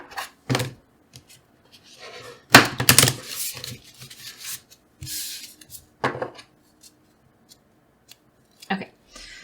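A small handful of cards from a Disney Villains tarot deck being shuffled in short, uneven bursts of crisp snapping and flicking, close by, with quieter card handling between the bursts.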